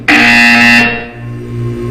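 A loud, harsh electronic buzzer in the video game Portal 2 blares once for under a second, then cuts off, leaving a low hum behind.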